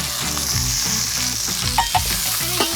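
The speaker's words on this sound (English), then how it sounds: "We're gonna add a little bit of oil, nice and sizzling hot over those coals" Onions hit hot oil in cast iron over coals, sizzling and crackling steadily with a loud frying hiss, punctuated by a few sharp pops and the clatter of stirring.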